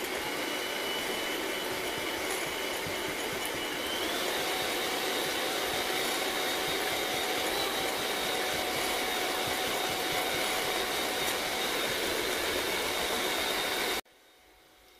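An electric whisk beats chocolate layer cake batter with oil and vanilla, giving a steady, loud whirring drone with a gritty buzzing texture that runs unbroken for about fourteen seconds before cutting off abruptly.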